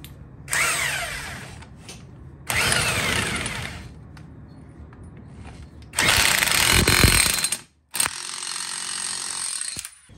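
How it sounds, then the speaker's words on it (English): A power tool tightens the axle nut on a CFMOTO vehicle during maintenance, running in loud whirring and rattling bursts of a few seconds each, separated by short pauses. No one speaks. "Get our axle nut back on there."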